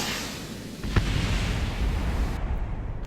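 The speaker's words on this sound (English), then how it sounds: "Blast door deployed. More explosions." An explosive blast door ejection on a rover landed on Duna in Kerbal Space Program, a sudden sharp crack followed by a sustained low rumbling roar that lingers at steady loudness.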